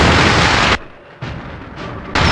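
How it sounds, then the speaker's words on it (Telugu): Firecrackers and bombs explode in a film climax scene: loud, sustained blasts break off briefly twice, then another burst follows. "ఇక్కడ రకరకాల టపాకాయలు, బాంబులు పేలుతున్న చప్పుడు వింటున్నావా?"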